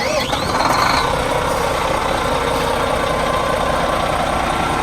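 A Volvo B11R 450 HP bus engine runs loud and close, a dense steady diesel roar with a brief higher whine at the start and no change in level afterward.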